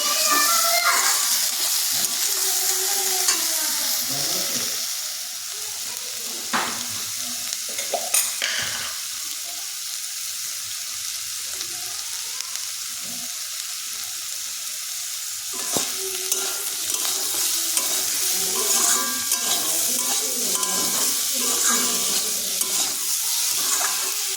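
Banana pieces fry in a pan with turmeric and salt, a loud, close sizzle interrupted by repeated scraping stirs and clatter of the spatula across the pan.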